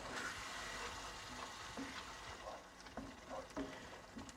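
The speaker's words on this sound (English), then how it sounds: "Give that a stir" A spoon stirs butter chicken sauce in a pan over a soft background sizzle, with occasional scrapes and light clinks against the pan and no talk.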